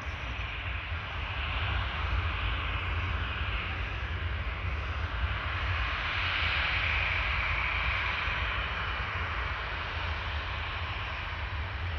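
An Air Caraibes Airbus A350-900 taxiing toward the runway at Orly, a steady broadband jet engine roar with a hissing whine, continuous and fairly loud from a moderate distance, with no voices.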